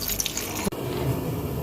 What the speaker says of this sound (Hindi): ठंडा पानी हम इस तरह ऐड करेंगे ताकि हमारा ये जो मकरोनी है ये गर्म होगी तो